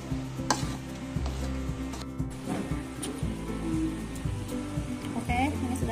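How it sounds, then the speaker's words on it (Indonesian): Thick hun kwee batter of sago pearls bubbling and popping in a pan as it is stirred, with soft plops, scraping and sizzle under a running voice. "Masak sampai meletup-letup ya."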